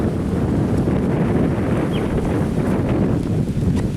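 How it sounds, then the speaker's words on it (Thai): Strong wind on a bridge over a gorge roars steadily and loudly across the microphone, a dense, buffeting rush with no voices. "ลมมันแรงอ่ะ"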